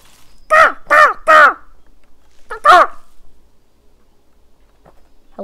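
A crow in a video game gives three quick loud caws, then a single caw after a pause, each harsh and close, against near silence.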